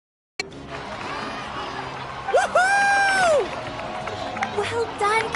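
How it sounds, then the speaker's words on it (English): Applause and cheering from a crowd in the video game Genshin Impact start abruptly after a moment of silence, with whoops and voices over steady clapping. "Let's give a huge round of applause to our brave young warrior, Kachina!"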